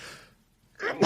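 A faint breathy sound, a brief pause, then a loud close sneeze with a sharp explosive end.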